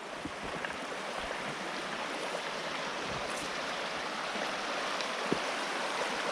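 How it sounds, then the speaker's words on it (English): Water from an old logging road pours out into a creek, a steady, moderately loud rushing flow with faint splashes and small knocks scattered throughout, with no talk. "Comes down and pours out into the creek."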